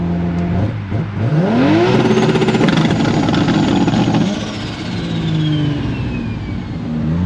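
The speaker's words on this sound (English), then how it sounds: "It's anti-lag. If you put it on, you can rev it." A manual Toyota Supra MK5 fitted with a 2JZ engine revs hard with anti-lag, its loud exhaust note rising sharply, holding high, then dropping back to a rumbling idle, close by with no talk.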